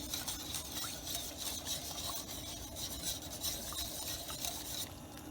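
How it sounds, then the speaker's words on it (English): A pot being stirred steadily, with a continuous scraping, rasping rub running the whole time at a moderate, even level and no talking over it. "So keep stirring."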